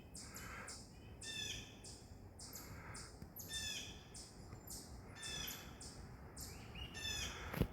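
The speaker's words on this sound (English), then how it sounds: "that's a baby hawk." A baby hawk calling outdoors, a steady repeated series of high, scratchy squealing cries at a moderate distance over soft ambient background noise.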